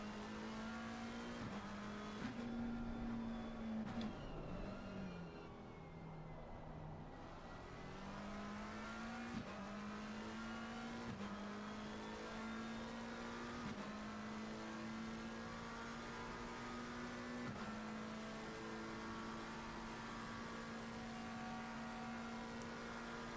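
Racing cars' engines scream steadily in a racing video game, a McLaren among them, with a loud sustained whine that shifts pitch through gear changes and brief dips, continuous and close throughout.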